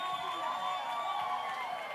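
A crowd at a Kiki ball dance battle cheers and whoops for dancer Papi Lavo, a continuous dense roar of voices and high shouts with no break.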